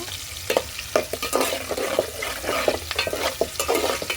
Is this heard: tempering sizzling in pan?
yes